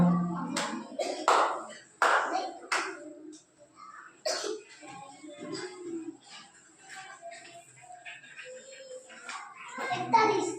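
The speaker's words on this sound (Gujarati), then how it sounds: "4 લાડુ તાળી બનાવી અને ઉપર એક ચપટી વગાડી" Children in a primary maths class play a counting game, clapping hands and snapping fingers in short sharp bursts spaced a second or so apart, close by, mixed with an adult's and children's voices talking.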